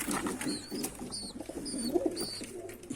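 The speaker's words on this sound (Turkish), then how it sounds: "iki bango yavrumuz da burada." Hungry Bango pigeon chicks make soft, low coos and faint flutters nearby, with a few brief higher chirps over a steady room background.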